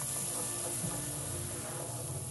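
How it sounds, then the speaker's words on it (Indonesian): Spice paste for nasi goreng terasi stir-frying in a pan gives a steady, soft sizzling hiss that holds evenly, with no talking. "bumbu tadi kita tumis dulu, tumis bumbunya, aduk-aduk dulu, bumbunya ditumis sampai matang ya"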